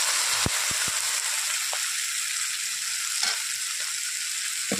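Half an onion, two dried red chillies and two garlic cloves, fried red, hit a hot pan, setting off a steady loud sizzling hiss with a few sharp clinks at the start.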